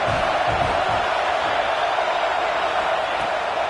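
Stadium crowd noise in the College Football 26 video game during an LSU season game, a steady dense roar of a packed crowd at a tense moment deep in one team's end, continuous and even throughout.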